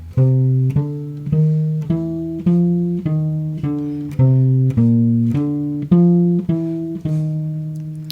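A jazz guitar picks a walking bass line, one plucked note per beat in a steady, even pulse, clean and close with nothing else playing.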